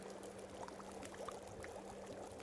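Water bubbling on a fire in The Long Dark video game, a very faint, steady simmering hiss with a low constant hum underneath.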